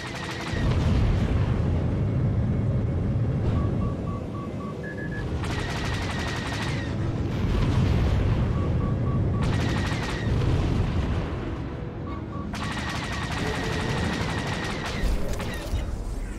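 Rapid laser cannons on a starfighter in a space dogfight in Star Wars: The Old Republic, held down in long sustained bursts of dense rattling fire, loud and close, with short pauses between volleys and electronic targeting beeps.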